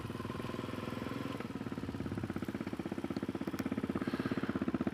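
Suzuki DRZ400SM motorcycle with a 470 stroker engine idling close by, a steady rapid thumping pulse that grows slightly louder and more pronounced toward the end.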